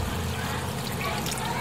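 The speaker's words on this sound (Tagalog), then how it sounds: "Lagay tayo ng tubig." Water is poured into coconut milk in a cooking pot while making ginataan, a steady splashing trickle, close and fairly loud for under two seconds.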